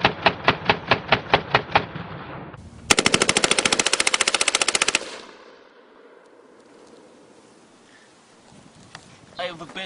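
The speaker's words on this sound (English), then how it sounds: "So this is another M16 A1. This one I got the bipod on, and we're going to fuck up a few more targets." An M16A1 rifle fitted with a bipod fires at targets outdoors: a string of evenly spaced single shots, then a loud rapid burst lasting about two seconds, followed by quieter rustling and faint distant sounds.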